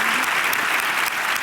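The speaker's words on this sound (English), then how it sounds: "Please join me in another round of applause for our panelists" An audience at a conference event applauds panelists and a keynote speaker, a dense, steady burst of clapping from a crowd that continues evenly through the moment.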